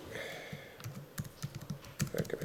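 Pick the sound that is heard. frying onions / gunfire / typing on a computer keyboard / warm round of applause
typing on a computer keyboard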